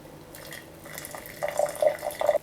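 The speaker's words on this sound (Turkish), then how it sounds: "Kaynar suyum var, onu boşaltıyorum." Boiling water is poured into a jar while making liquid soap, a splashing trickle that swells into louder gurgling bursts over a couple of seconds.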